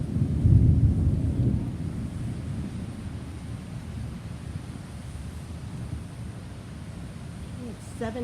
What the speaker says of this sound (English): It's 7:25 and the first hearing of thunder.